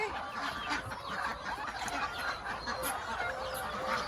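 Chickens and ducks stir in a coop early in the morning while eggs are gathered, giving a steady, fairly faint wash of overlapping clucks and bird calls with no voices.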